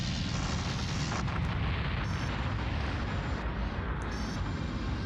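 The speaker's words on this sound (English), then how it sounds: "A lot of particle effects coming out of those explosions." Space combat in the video game Colony Wars, a dense continuous roar of explosions with deep rumbling booms layered over each other, loud and unbroken throughout.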